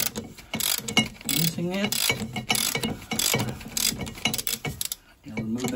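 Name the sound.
ratchet wrench loosening spark plug on Mercruiser boat engine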